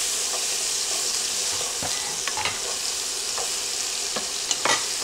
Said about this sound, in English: now that we got a nice sizzle going on with the butter and oil, I'm going to go ahead and place the peppers in